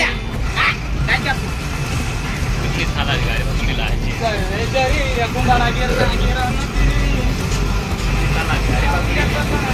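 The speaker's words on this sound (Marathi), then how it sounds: "गाडी पण निघाली आपली." A car pulls away and keeps driving, giving a steady engine drone and road rumble throughout, with chatter from people inside heard over it.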